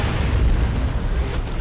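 An Eldar Falcon tank blows apart in Dawn of War II, a loud, rumbling explosion that fills the short moment with a heavy, sustained boom.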